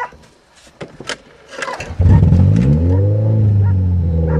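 A manual Toyota's engine cranks over with a few clicks and sputters, then catches and settles into a loud, steady revving idle that rises slightly in pitch, heard up close with no talk.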